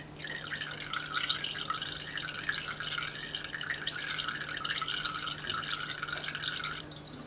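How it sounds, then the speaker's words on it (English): An apple vinegar solution trickles and drips out in a soft, continuous patter of small droplets, close by and fairly quiet, with no talking. "Just let it trickle out until there's no more solution trickling out."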